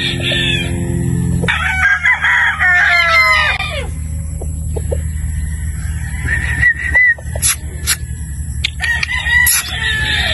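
Roosters crowing and clucking among broodstag gamefowl, a 3/4 Sweater, 1/4 Boston cross, with repeated loud nearby crows and clucks over steady farmyard background noise.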